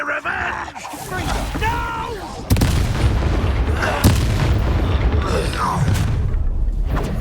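A Confringo blasting spell explodes in the Hogwarts Legacy video game, a sudden loud boom at about two and a half seconds followed by ongoing rumbling battle noise and a second hit near four seconds, with voices and effects layered throughout.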